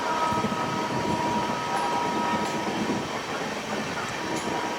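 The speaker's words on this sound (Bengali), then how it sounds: "আর ট্রেন এসে পৌঁছালো বোলপুর শান্তিনিকেতন।" Steady rumble and rattle of a passenger train running between Kolkata and Tarapith, heard from on board, continuous and fairly loud with a faint high whine throughout and no talking.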